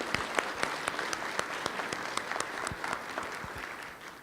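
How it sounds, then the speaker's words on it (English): A chamber of commerce breakfast audience gives a round of applause for award winners, a moderate indoor clapping with distinct individual claps over a few seconds that tapers off at the end. "Let's give them a round of applause again."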